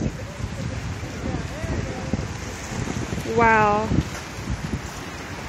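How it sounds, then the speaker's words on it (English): Strong wind gusting at the edge of the Hudson River floodwater in Hoboken, buffeting the microphone with a constant roar while someone speaks briefly over it. "There's so much wind and background noise"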